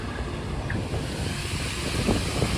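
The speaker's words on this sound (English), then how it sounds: "a few water fountains here to greet guests as they make their way up to the palace" Water fountains at the entrance of the Emirates Palace hotel in Abu Dhabi give a steady, broad splashing rush outdoors, mixed with wind noise across the microphone and no talking.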